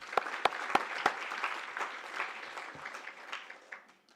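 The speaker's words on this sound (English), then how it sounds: "really, really give us a round of applause for everybody that's here today" Conference attendees break into applause, a few loud, sharp claps near at hand standing out at the start over a broad crowd patter that gradually thins and fades away.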